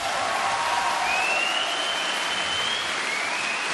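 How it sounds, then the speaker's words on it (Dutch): Steady, dense applause from a concert audience greeting a choir with an orchestra at a game music concert, loud and continuous throughout with no talking. "Een applaus graag."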